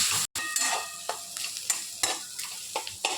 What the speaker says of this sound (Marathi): सगळे मसाले तेल सुटेपर्यंत चांगले फ्राय करून घेणार आहोत.